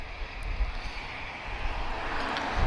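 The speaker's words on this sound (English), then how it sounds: "yet another A320 Neo, guys" An Airbus A320neo airliner with two LEAP-1A engines roars steadily at Lisbon Airport, a broad continuous jet rumble with a gusting crosswind, heard from a moderate distance with no talk.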